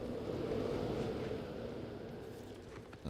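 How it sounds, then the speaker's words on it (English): Steady whooshing wind drifts through a cave in the game Outer Worlds 2, a continuous low rumble of moving air that holds at even strength with no talk over it. "Sounds kind of windy in here."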